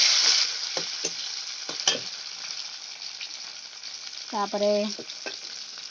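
Onions and tomatoes fry in hot oil in a home kitchen, giving a soft steady sizzle with occasional stirring clicks, while someone speaks briefly and some short tonal beeps sound nearby.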